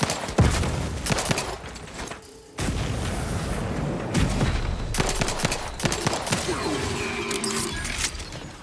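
Gunfire in the video game The Outer Worlds 2: dense, overlapping bursts of shots and booms come in close-quarters combat, with brief lulls between loud volleys.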